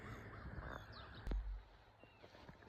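A black crow caws a few times at a distance, faint against quiet outdoor background noise in a yard where seagulls gather, with one brief louder thump partway through.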